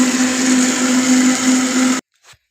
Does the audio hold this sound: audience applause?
no